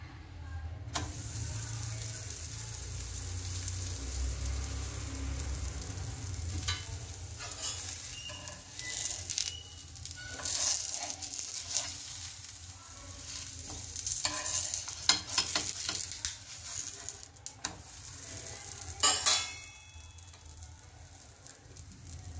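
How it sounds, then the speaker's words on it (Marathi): Cabbage, carrot and potato parathas cook on a hot tawa, giving a soft sizzle under scattered clatter and scraping as they are placed and turned, with occasional louder clinks. "मी तवा ठेवलेला आहे तपायला आपले पराठे सगळे लाटून बघा रेडी आहे. चला तर एक एक आपण यावर टाकूया."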